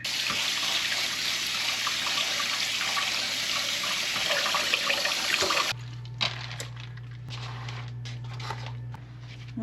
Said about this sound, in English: the easiest way that I've found to separate the seeds from the pulp is to actually run this underwater